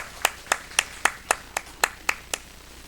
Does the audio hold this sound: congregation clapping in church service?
yes